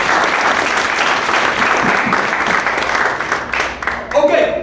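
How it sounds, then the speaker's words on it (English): An evening lecture audience breaks into sustained, loud applause filling the hall, with dense clapping throughout and a voice starting to speak as the ovation tapers off near the end. "that deserves a big old round of applause"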